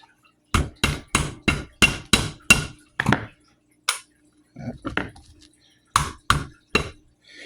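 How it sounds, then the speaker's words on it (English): A hammer taps a pin into a Hi-Point JHP 45 Gen 2 pistol frame: a close, quick series of about eight sharp metallic strikes, a pause with a few light clicks and handling sounds, then three more taps. "It won't go all the way in with the hammer."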